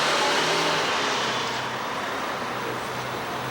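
A diesel truck engine runs with a broad, steady roar and low rumble, fairly close, amid road noise, easing slightly over a few seconds.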